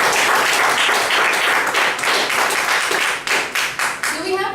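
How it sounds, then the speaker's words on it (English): Audience applause at a meeting session: steady, close crowd clapping that thins into a few separate claps near the end, with a voice speaking over it. "a very big round of applause"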